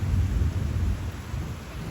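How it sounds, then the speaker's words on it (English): Steady rain pours down with deep thunder rumbling low and close throughout, a continuous heavy wash with no voices. "Lucy has always just stood in the rain"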